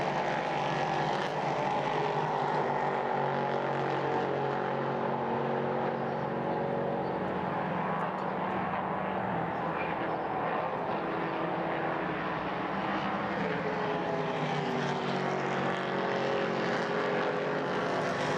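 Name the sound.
Nissan prototype race car engines roaring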